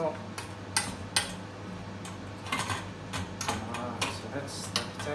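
Cut potato chips are stirred in oil for an air fryer, making repeated close scraping and clinking sounds of a utensil against a bowl in irregular bursts.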